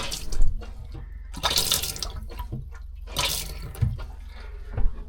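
Water runs and splashes through a boat's newly fitted water line, sputtering in irregular gushes as air clears, with intermittent louder spurts over a low steady background.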